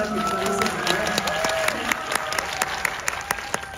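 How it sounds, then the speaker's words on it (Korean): Sustained audience applause at a film screening and Q&A in a COEX Megabox cinema, a dense, even patter of many hands clapping throughout. "오늘 박수를 보내드리고요"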